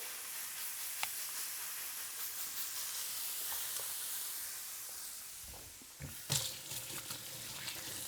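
85/15 ground beef sizzles on a hot griddle in a steady, soft hiss, with a few faint scraping and pressing clatters near the end as the meat is smashed down.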